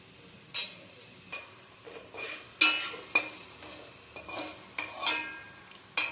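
Salted onion being stirred and fried in a pan, with a soft continuous sizzle and a series of sharp spatula scrapes and taps at irregular intervals.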